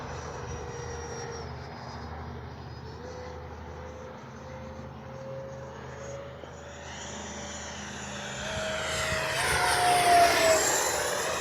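Twin 80mm ducted fan engines of a Freewing MiG-29 RC jet whine steadily, the high pitch stepping upward as the throttle rises, swelling to a loud rushing roar near the end.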